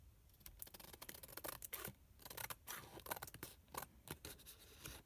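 Scissors snip through paper scraps for a stamped card project, a close, quick run of crisp cuts and rustles repeating steadily with no talking.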